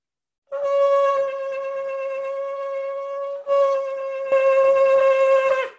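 Shofar blown with a soft lu lu lu articulation, a mostly continuous horn note with gentle breaks and slight swells rather than sharp pops, close and alone.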